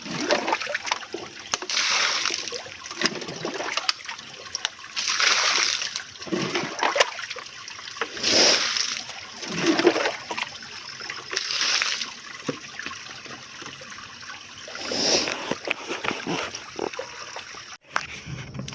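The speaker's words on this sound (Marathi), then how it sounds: "तो पिण्यायोग्य पाणी आम्ही आमच्या भावकीच्या टाकीमध्ये सोडून देतो" Cleaned drinking water gushes and splashes into a village storage tank in repeated loud surges, with quieter trickling between the bursts.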